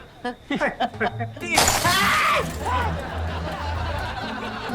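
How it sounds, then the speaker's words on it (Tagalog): A clay flower pot thrown and shattering, a sudden loud crash with scattering fragments, preceded by short laughs and followed by agitated talk and background music in a Filipino sitcom scene. "Basag! Yung paso ko!"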